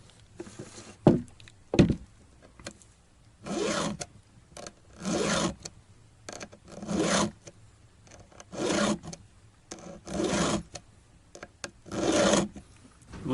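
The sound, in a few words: diamond needle file sharpening chainsaw chain teeth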